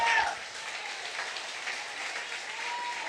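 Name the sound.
audience applauding in church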